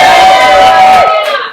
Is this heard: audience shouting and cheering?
yes